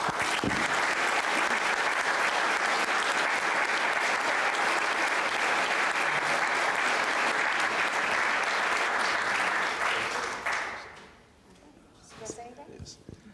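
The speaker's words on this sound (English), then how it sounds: "Let's give him a round of applause" A public meeting audience breaks into loud, sustained applause that holds steady for about ten seconds before dying away, followed by a few scattered claps and quiet room noise.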